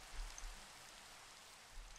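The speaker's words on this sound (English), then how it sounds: "Hey, the rain is finally clearing up." Rain falling in the Minecraft video game, a soft steady hiss of drops on surfaces that stays even and faint for the short stretch, with no voices.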